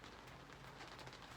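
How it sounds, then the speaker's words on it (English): Rain drumming on the top of a window, a quiet even hiss of drops with scattered brighter ticks, steady throughout and without voices. "it's really starting to rain right now"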